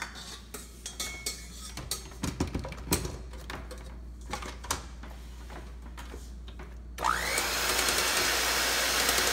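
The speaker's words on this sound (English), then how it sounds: "I'm going to pour it in my blender and I'm gonna blend it really quick." A kitchen blender starts up and runs loudly, blending pound cake batter after a stretch of clattering dishes and utensils, its motor whine rising sharply and then holding steady.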